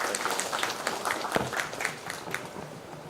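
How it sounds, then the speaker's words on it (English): Audience applause at a radio convention press meet: a short burst of scattered hand clapping in a room, moderately loud and uneven, tapering slightly toward the end. "Let's give him another round of applause."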